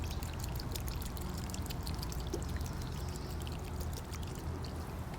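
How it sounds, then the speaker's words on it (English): Mustard solution is poured during a lab-style extraction, giving a continuous, soft splashing pour that runs steadily without pause, close and fairly quiet. "I'm able to pour the rest of the mustard solution on"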